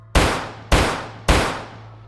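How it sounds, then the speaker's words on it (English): Three loud gunshots ring out in an even rhythm, each a sharp blast with a decaying echo, close and alone. "gunshots, real ones."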